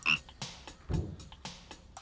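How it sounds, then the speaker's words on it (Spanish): A cartoon frog croaking in short, repeated bursts, close and clear with no talk over it. "Oh, encontraron a nuestra rana perdida."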